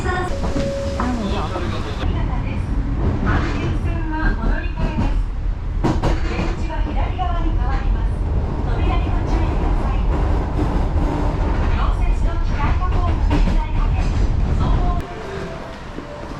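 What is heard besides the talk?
train arriving at station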